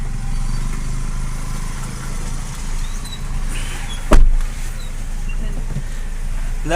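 A car engine idles with a low, steady rumble nearby as the car is parked, and a single sharp thud cuts through partway.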